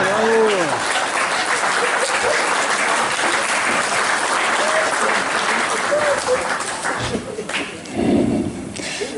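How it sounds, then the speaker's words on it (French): Loud, sustained applause from an audience at a children's singing show, thick crowd clapping throughout, with brief voices and a whistle cutting in and a dip near the end. "Sous vos applaudissements"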